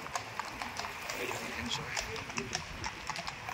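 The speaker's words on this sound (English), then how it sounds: "Some people are going with some horses." Horses' hooves clip-clop on a London road near Buckingham Palace, sharp irregular strikes under steady street crowd noise, with a person speaking briefly over them.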